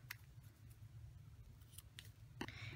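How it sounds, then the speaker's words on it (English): Scissors trim ribbon for a bow on a handmade card, making several quick, faint snips close by in a quiet room with a low hum. "Now we'll just trim that off"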